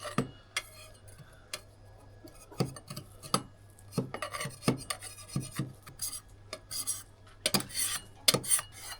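A scraper scrapes a waxed trial piece of floor or countertop surface clean, a series of sharp irregular scratching strokes and taps, close and fairly quiet, with short pauses between them.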